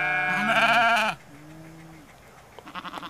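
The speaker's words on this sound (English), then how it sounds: "like a truck cargo container with wheels full of sheep" Sheep packed into a wheeled truck cargo container in Pausitz, Germany bleat loudly in a wavering chorus for about a second, followed by a quieter lower bleat and faint scattered calls.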